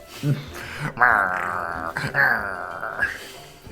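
A human voice imitates the low, rumbling growl of an old greyhound, a sustained gravelly snarl with brief breaks, loud and close throughout.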